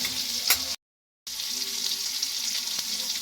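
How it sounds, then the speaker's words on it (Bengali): Dal for Bengali bitter tetor dal being stirred in a pan after half a cup of water and salt go in, a steady close sizzle with soft scraping, briefly cut to silence mid-clip, no voices. "জলটা দিয়ে ভালো করে নাড়িয়ে নেব"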